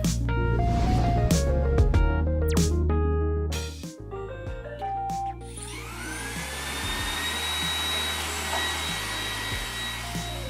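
A Roomba 980 robot vacuum cleaner starts with a rising whine after a short musical jingle, then settles into a steady, moderately loud whirring hum.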